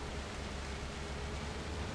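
Steady, dense hiss of video game rain with a low rumbling undertone, constant and unbroken throughout, no voices.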